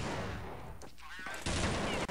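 Gunfire in Counter-Strike, a dense run of loud shots and bursts that fills most of the clip, briefly dips, then returns even louder near the end.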